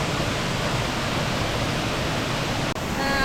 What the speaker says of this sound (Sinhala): අපි දැන් ඇවිල්ලා ඉන්නේ මේකට කියන්නේ නෙළුව දූවිලි ඇල්ල.